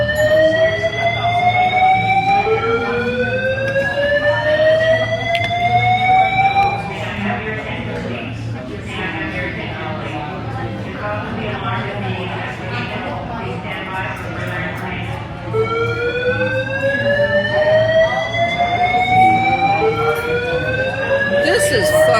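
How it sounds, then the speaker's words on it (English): A loud electronic alarm blares inside a casino restaurant in a repeating rising whoop pattern, sweeping upward again and again, while people talk beneath it. "We've been hearing this alarm for probably 15 minutes now"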